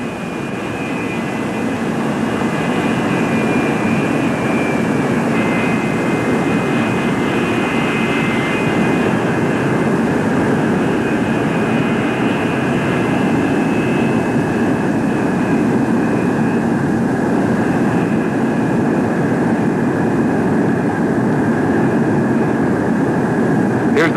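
A USAF F-102 jet fighter comes in to land, a loud, steady jet roar with a thin whine riding on top that holds unbroken and close for the full stretch.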